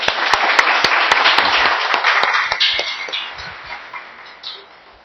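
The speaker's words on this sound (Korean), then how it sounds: "큰 박수로 환영해 주기 바랍니다." An audience at a lecture applauds with dense, steady clapping that gradually thins and fades toward the end, a few sharp individual claps standing out.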